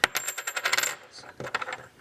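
Coins from bank-sealed half dollar rolls clatter and drop in a quick burst of bright metallic clinks, then a shorter second flurry after a brief pause, close and loud with no talking.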